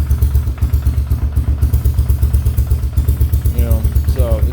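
A Honda Foreman 500 ATV engine running steadily just after starting, a loud, close, rhythmic thumping idle with some clatter and a brief rising rev near the end.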